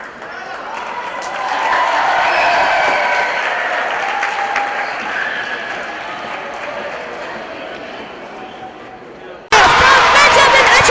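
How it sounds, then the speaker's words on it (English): A crowd at an East African regional table tennis championship erupts in sustained cheering and applause with ululation, loud and dense throughout, swelling early and easing slightly before a sharp burst at the end. "The crowd is in ululation. A lot of support from the crowd."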